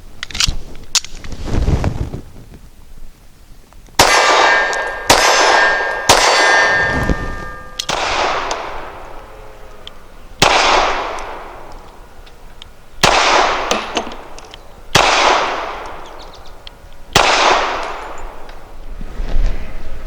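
A Walther CCP M2 pistol fires Liberty Civil Trainer 65-grain rounds at a steel target, producing about a dozen loud sharp shots, each followed by a ringing metallic clang, in irregular bursts at close range, with no talking.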